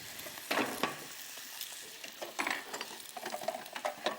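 Pork frying in a pan gives a close, continuous crackling sizzle with bursts of spattering and scraping as the meat is turned.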